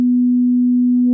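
A pure, steady sine tone from the Mela 7.13 FM synth module, held clean and alone, with faint added harmonics creeping in near the end as feedback enriches it.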